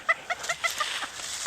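A farm chicken clucking close by, a rapid series of short, sharp clucks in an uneven rhythm, clear and alone with no talk.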